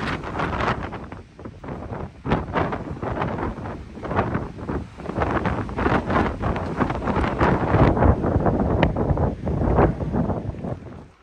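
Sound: strong wind on an exposed mountain trail

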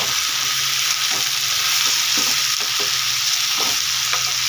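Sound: frying dried fish and eggplant in oil

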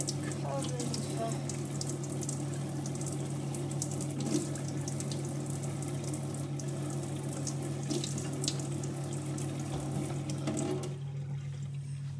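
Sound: water running from a tap while washing salad vegetables

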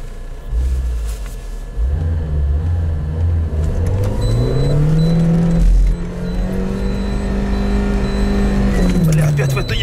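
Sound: Lada Niva car driving off and accelerating

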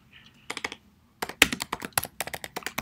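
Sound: typing text on a computer keyboard in VS Code

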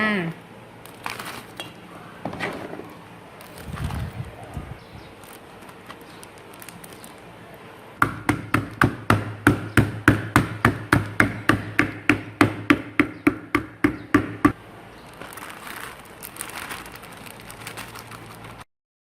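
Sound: pounding fruit in a plastic bag

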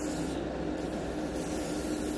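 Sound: airbrush spraying paint

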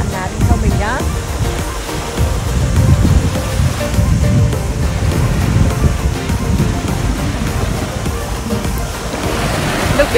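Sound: ocean waves on a beach, Mangawhai, New Zealand

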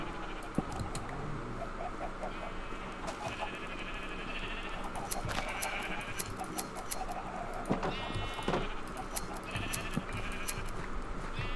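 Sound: sheep bleating in video game

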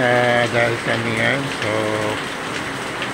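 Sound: rain

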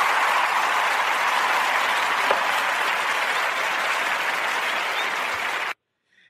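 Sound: round of applause for an interview guest

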